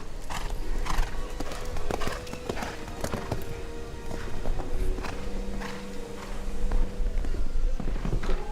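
Horse hooves clip-clop steadily across an arena at the 2022 Biogen Maple Ridge FEI World Cup Qualifier show jumping event, with scattered thuds and a brief whinny over a busy, crowded background.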